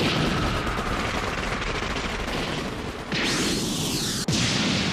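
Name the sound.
gunfire from guns firing at a ghost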